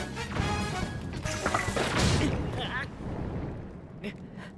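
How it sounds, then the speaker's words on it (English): A bomb arrow explodes in the Zelda Tears of the Kingdom video game with a loud crashing blast and rumble, heard under and alongside a player talking. "I shot my bomb when I should have thrown it."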